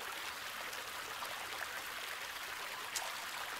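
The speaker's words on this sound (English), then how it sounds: "Waterfall. The water isn't bad." Waterfall water flowing in the video game Rake, a steady faint hiss of rushing water with no pauses or voices, heard from a moderate distance.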